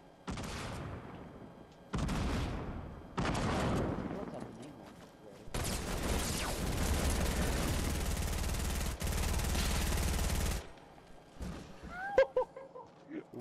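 Bursts of gunfire from the video game Fortnite come in several short volleys and then a longer sustained stretch of rapid shots, ending in a few scattered quieter game sounds.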